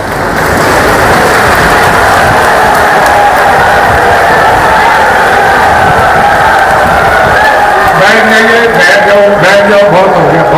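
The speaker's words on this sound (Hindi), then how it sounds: "मैं एक बार पूरी भीड़ से कहूंगा कि खड़े होकर तालियां बजा के गृह मंत्री जी का स्वागत करें।" A large outdoor political rally crowd in Sirsa stands and applauds to welcome the home minister, a loud, dense, continuous roar of clapping and cheering that stays at full level throughout, with voices rising toward the end.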